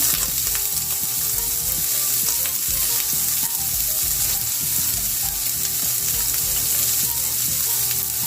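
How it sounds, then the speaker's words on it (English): Onion frying in a hot pan for a farfalle pasta meal, a loud, close, continuous sizzle with faint stirring clicks and no talk. "Now I'm going in with my onion."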